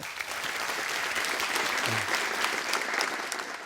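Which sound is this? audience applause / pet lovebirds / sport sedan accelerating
audience applause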